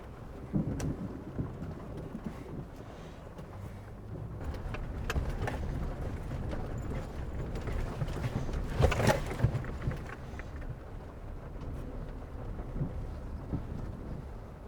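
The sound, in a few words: thunderstorm with rain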